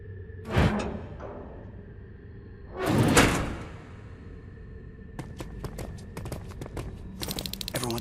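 A sliding door opens in the Terminator Resistance video game: two loud whooshing slides a few seconds apart, then a quick run of sharp clicks and clatter near the end.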